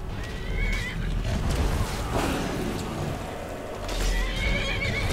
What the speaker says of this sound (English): He's eating your horse.